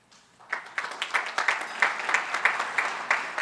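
Steady applause from an audience at a city club annual meeting, many hands clapping in an even rhythm that swells quickly after a brief quiet start and holds close and moderately loud.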